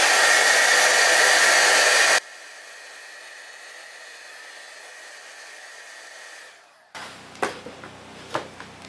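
A hair dryer drying watercolor paint on paper, blowing loud at first, then dropping to a lower steady whoosh before switching off, followed by a few light taps and handling sounds.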